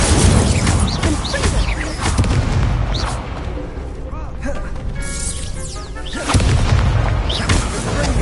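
Incendio fire spell cast in Hogwarts Legacy amid combat, loud booming blasts and crackling bursts layered with a heavy battle din, with voices shouting over the effects throughout.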